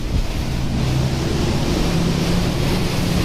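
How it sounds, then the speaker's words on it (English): The engines of a 2020 Fjord 44 Open motor boat roar in a low, steady rumble beneath a constant rush of spraying water and wind buffeting the microphone. "Getting some nice spray coming up as we've just kicked the engines up a little bit."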